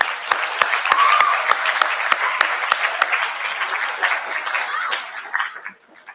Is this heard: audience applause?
yes